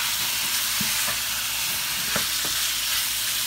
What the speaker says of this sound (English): Now I'm going to add the beef and stir it a little bit here.